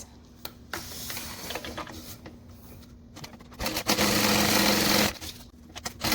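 A sewing machine stitches a side panel seam of a fabric divider in short bursts of rapid mechanical whirring, with a longer steady run near the end between quieter pauses.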